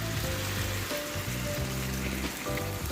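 Gravy pours into a hot skillet of beef and snow peas, giving a steady, close sizzle and bubbling hiss with no break, alone and without talk.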